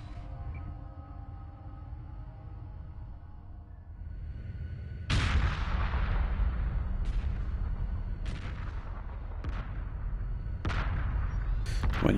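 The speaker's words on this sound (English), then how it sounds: "When you hear an explosion like that," Several sharp booming blasts in the video game Homeworld Remastered go off one after another over a low rumbling drone, each explosion loud and abrupt with a decaying tail.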